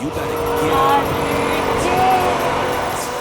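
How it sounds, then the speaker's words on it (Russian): Lamborghini Huracan sports car driving through Dubai: a loud, sustained engine roar with rising and falling revs and a brief tire-like squeal, heard close with a voice speaking over it. "И врывается в Дубай не на метро, а на Lamborghini Huracan Estio."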